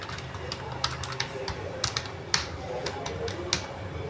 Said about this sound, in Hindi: वाह, फुल साइज का कीबोर्ड है